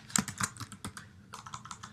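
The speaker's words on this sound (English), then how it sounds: "and you can just start typing" Quick taps on an iPad's on-screen keyboard while typing text into a PDF, a close, irregular run of light clicks with brief pauses between bursts.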